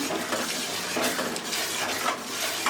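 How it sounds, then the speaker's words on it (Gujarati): A spoon stirring green turmeric curry with yogurt in a pan, a steady scraping and clinking against the metal over a continuous sizzle, close up and with no talking. "હવે હલાવી લેવાનું છે દહીં ઉમેર્યા પછી"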